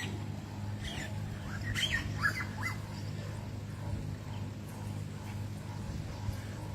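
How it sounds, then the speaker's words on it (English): Birds chirp in short, scattered calls on Drum Hill, faint over a low steady hum, with a dog-like whimper mixed in and no talking. "Listen to the birds."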